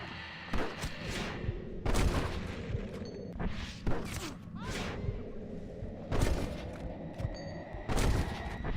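Gunfire in Red Dead Redemption, a string of loud, close shots and booming impacts spread across several seconds, with voices talking between the reports.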